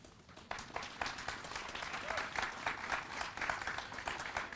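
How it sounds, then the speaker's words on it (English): A crowd at an outdoor Juneteenth flag raising claps for political leaders, with brisk, uneven hand claps building from a quieter start and a few voices mixed in underneath. "can y'all give them a hand clap"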